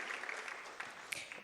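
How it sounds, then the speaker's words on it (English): Audience clapping for the musicians at a Bharatanatyam arangetram, a dense, steady round of applause with a few sharper individual claps standing out, sustained through the short moment. "So big round of applause for Vignesh, Sandeep, Ravi,"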